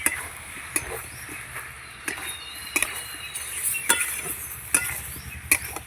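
Soybean chunks with potatoes and spices sautéing in a pan, a steady low sizzle with repeated spoon stirs and scrapes, close and moderately loud, with no talking.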